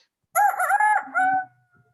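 A single rooster crows once, loud and close, a drawn-out cock-a-doodle-doo lasting about a second before falling silent.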